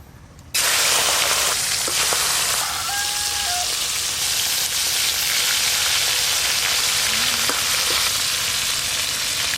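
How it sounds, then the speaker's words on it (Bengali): Large prawns fry in oil that has just been used for frying onions, giving a loud, continuous sizzle that begins abruptly and runs steadily throughout, with no talking. "ওই একই তেলে প্রথমে এই বড় সাইজের চিংড়ি মাছগুলো ভেজে নেব।"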